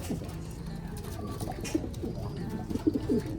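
Racing pigeons cooing softly in a loft, a few low throaty coos near the end over quiet background rustle.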